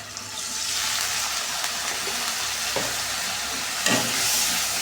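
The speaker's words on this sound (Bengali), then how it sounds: "হলুদ লবণ লঙ্কা করে ধনিয়া করে মশলাটা ভালো মতন কষাতে থাকবো কিছুক্ষণ ধরে" A masala of turmeric, salt, chili and coriander fries in a pan, giving a steady close hiss and sizzle with occasional scraping stirs and no talking.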